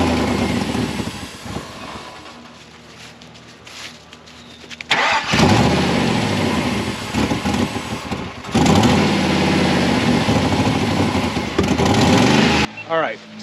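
An LS-swapped 1955 Chevy truck engine cranks, catches and roars to life, rising and surging in loud revving bursts with rough running between them, while people talk nearby.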